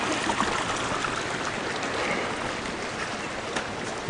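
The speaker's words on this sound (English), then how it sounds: "here is a creek coming along here" A small creek flows steadily past a yard with fruit trees, giving a close, continuous rushing babble that stays even throughout with no other sounds.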